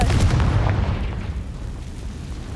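A Confringo blasting spell explodes in Hogwarts Legacy, a loud, booming burst with a rumbling low end that decays over a couple of seconds, heard alone without voices.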